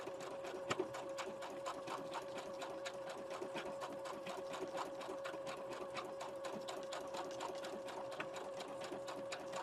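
Sewing machine running steadily on decorative stitches through a grocery-bag junk journal page, a rapid even needle rhythm close by and moderately loud, with no talking.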